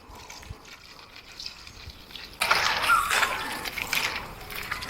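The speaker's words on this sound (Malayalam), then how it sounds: "ഈ ഒരു വെള്ളം വീഴുന്നുണ്ട് ഇവിടെ" Pond water poured onto plants during a pond cleaning, starting as a faint trickle and turning into a louder, steady gushing splash partway through, heard close by and alone.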